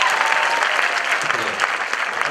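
Audience applause for a singer at a 15 August celebration evening at JNU, a dense, steady wash of clapping from a large crowd that runs throughout without a break.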